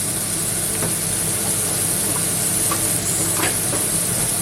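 Shrimp in soy sauce sizzle steadily in a hot pan, a constant loud hiss with a few faint scrapes and clicks as they are stirred.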